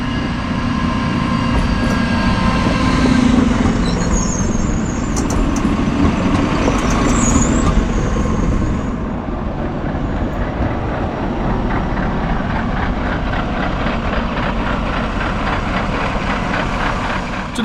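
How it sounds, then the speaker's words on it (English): Two coupled WEG RegioShuttle diesel railcars pull into Schorndorf station on the Wieslauf Valley Railway, a loud, steady rumble and rolling clatter that eases slightly partway through, with no voices. "there we can take a look at the arrival of my train today, which is a RegioShuttle of the"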